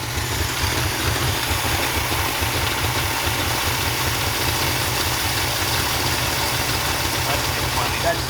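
An abandoned Ford F-250's engine runs steadily under throttle, a loud, close, rough rumble with a pulsing low beat, continuous throughout.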